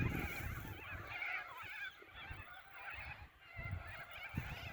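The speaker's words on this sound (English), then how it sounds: "I think they're corellas." Flock of corellas screeching over a Queensland garden in winter, a steady mass of harsh overlapping squawks at middle distance, with no voices.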